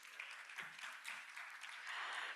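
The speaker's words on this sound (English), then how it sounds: "A round of applause for Dr. Pepper as he takes his seat." Audience applause in a hall at a panel session, as a speaker takes his seat; steady, fairly faint broadband clapping for about two seconds with no talk.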